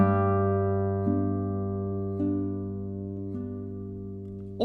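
A very quiet sustained accompaniment note rings on a Smallman classical guitar, with soft fresh plucks repeating at steady intervals and a clear, lingering tone under a quiet background.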